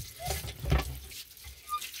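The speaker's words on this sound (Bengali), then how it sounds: "পাতাগুলো আমি ভালোভাবে ধুয়ে নেব।" Ghetkol leaves rinsed under running water in a kitchen sink, a soft continuous splash and trickle with a few louder gushes, close and fairly quiet.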